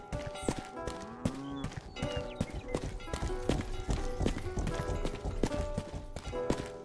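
Horse hooves clip-clop in a steady, busy rhythm over layered game music and ambient effects in a Western-style open-world game, with a rider's horse moving at a walk or trot, fairly close and prominent.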